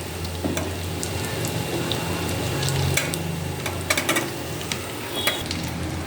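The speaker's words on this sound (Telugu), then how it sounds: "ఇప్పుడు మనం సన్నగా కట్ చేసుకున్న అరటికాయ ముక్కలు వేసుకోవాలి." Thin slices of raw banana fry in a pan with a steady broadband sizzle, while a spoon stirs them now and then, adding scraping clicks and brief bursts over the continuous crackle; nobody speaks.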